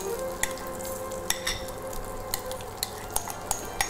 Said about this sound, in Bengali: পোলাওয়ের এই চালটা আমি একটুখানি ঘি মাখিয়ে নিয়েছি, জাস্ট এবার এটাকে একটু ফ্রাই করে নেব